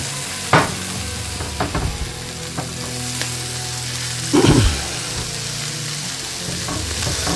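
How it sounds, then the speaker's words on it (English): Sirloin steak sears in a hot skillet with a steady crackling sizzle, punctuated by several clanks and thuds of handling and one louder scraping burst partway through. "you're only going to do it in the skillet a couple minutes on each side to get a nice sear"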